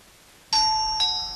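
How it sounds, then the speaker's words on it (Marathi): A doorbell rings in a home with two clear electronic chimes, the first striking abruptly and ringing on, the second following half a second later, bright and close with no voices. "अरे बेल वाजते बघ"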